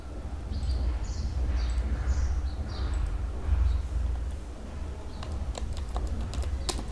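Keys on a computer keyboard clatter in a steady run of quick taps while code is typed, close and fairly clear, with a few sharper isolated clicks near the end and no talking.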